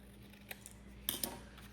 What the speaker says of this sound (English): Let me just trim off this edge a little bit.